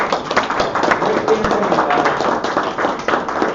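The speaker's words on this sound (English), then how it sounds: "Let's give a round of applause" Applause breaks out at an Amarillo College Board of Regents meeting after an oath of office, a fairly loud patter of clapping from a modest group, with some voices mixed in.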